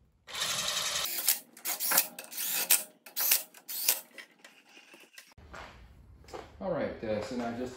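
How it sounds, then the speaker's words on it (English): Ratchet tightening lug nuts to bolt a trailer wheel back on, a series of short mechanical clicking and ratcheting bursts separated by pauses, close by and fairly loud, with a quieter stretch of handling sounds at the end. "And now we can just bolt the wheel back on."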